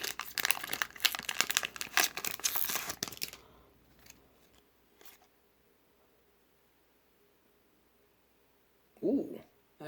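A Japanese Pokemon Sky Legends booster pack is torn open, a loud close burst of crinkling foil and ripping for a few seconds, then near quiet with a brief rustle at the end and a voice speaking.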